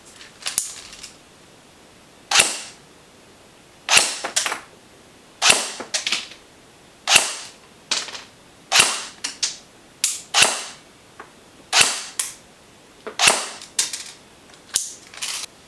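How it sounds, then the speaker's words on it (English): A Classic Army G36C airsoft electric gun on an 8.4 volt mini battery fires .2 gram rounds in single sharp, close, snapping shots, about a dozen spaced irregularly one to two seconds apart against near silence. "let's go ahead and chrono the Classic Army G36C with some .2 gram rounds"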